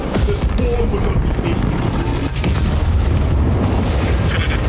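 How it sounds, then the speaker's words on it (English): A big explosion goes off in the video game Warhammer 40K Space Marine 2, a loud, dense boom and roaring blast wash that fills the whole stretch without letting up. "I'm gonna do a big explosion"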